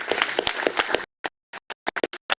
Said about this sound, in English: this probably deserves a round of applause for your commitment